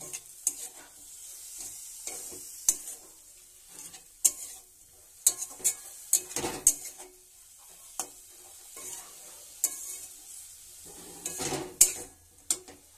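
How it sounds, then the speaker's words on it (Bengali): A spoon stirs turmeric and chili powder through a sizzling pan for a Bengali korai shak dalna with flat beans and eggplant. It gives a run of irregular close scrapes and clinks over a steady low fry, with no talking. "দিয়ে একসঙ্গে ভালো করে মিশিয়ে নিচ্ছি"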